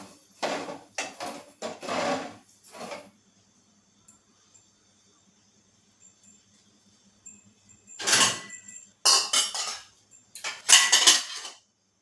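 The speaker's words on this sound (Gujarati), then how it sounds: "વચ્ચે વચ્ચે ચમચાની મદદથી આપણે ચાસણી હલાવતા રહેશું" A spoon stirring jalebi sugar syrup in a pot over a low gas flame: two bursts of close scraping and clattering against the pan, separated by a quiet pause.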